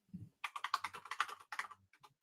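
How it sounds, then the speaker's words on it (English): Fast, furious typing on a computer keyboard, a busy run of close, crisp key clicks in bursts with a short pause midway, no talking. "Is he typing furiously?"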